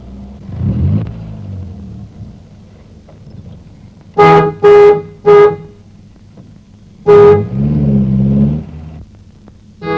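An old car horn toots loudly and close in short bursts, three quick honks followed by a longer blast, with a low rumble underneath; a voice is heard at the start.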